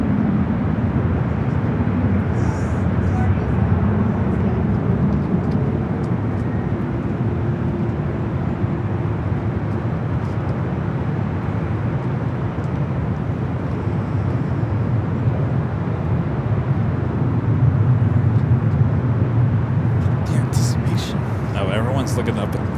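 A 27-year-old Delta Boeing 767-300ER taking off at LAX, a loud, steady jet roar that rumbles on for the whole stretch and swells slightly near the end.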